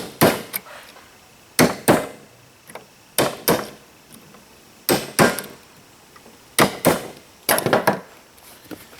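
Hammer strikes pounding nails straight in pallet wood, sharp close knocks in quick pairs and triplets repeating at irregular intervals, no talk.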